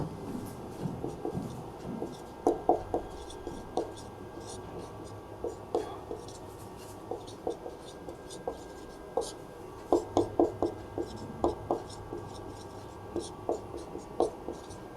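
Writing out a multiplication rule during a class 12 maths lesson: a steady run of short, crisp pen or chalk strokes in quick bursts, with low background noise and no clear talking.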